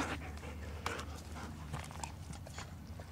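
A dog panting softly in rapid, rhythmic breaths, close by and quiet, with faint shuffling or tapping sounds around it.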